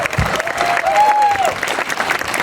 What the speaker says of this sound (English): Round of applause to everybody who's been involved in organizing this.